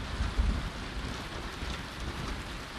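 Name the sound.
rain in a video game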